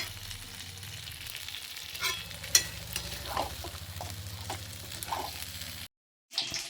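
Mutton being sautéed in spice masala in a pan, a soft continuous sizzle with scraping stir strokes and a few clinks, cutting out briefly near the end.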